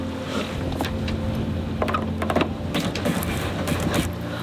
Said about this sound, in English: Now we're gonna jibe around.